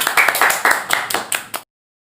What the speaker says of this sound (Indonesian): Boleh tepuk tangan untuk Irfan.